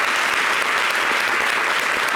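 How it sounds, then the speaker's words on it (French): Steady, dense applause fills a TV studio at a French local television ceremony honouring the NCI news department, a continuous wash of many hands clapping close and loud with no pauses. "ça s'applaudit forcément"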